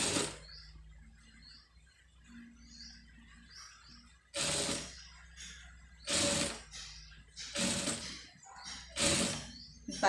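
Sewing machine stitching an embroidered blouse, several short bursts of rapid mechanical whirring separated by quiet pauses, with faint chirps in the background.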